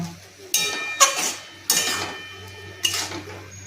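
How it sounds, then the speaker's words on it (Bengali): Masoor dal and kolmi greens are stirred in a pot and covered, producing four loud metallic clanks and scrapes of utensil and lid, each ringing briefly before fading. "নেড়ে ছেড়ে আমি আবারও ঢেকে দেব"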